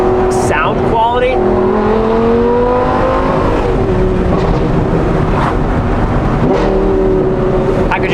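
Stock-header Gen 1 Audi R8 V10 with a Valvetronic exhaust revs loudly and repeatedly, pitch climbing and dropping in sustained sweeps, with a person speaking over parts of it.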